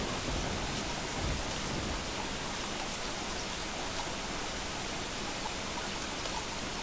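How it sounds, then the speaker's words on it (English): Steady rain falls in the video game Don't Starve, a dense, even hiss of drops that holds at a constant level throughout with no voices over it. "Oh my gosh, this rain sounds amazing."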